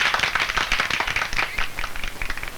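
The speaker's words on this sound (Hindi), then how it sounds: "तालियां बजाओ।" Crowd of people at a street political gathering clapping, a steady dense patter of many hands, moderately loud and continuous with no talk.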